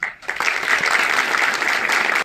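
An audience at a dam safety awareness programme in Kargil, Ladakh gives a round of applause for arriving guests and dignitaries, dense steady clapping that starts abruptly and holds for about two seconds.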